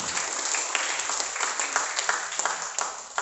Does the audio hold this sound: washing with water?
no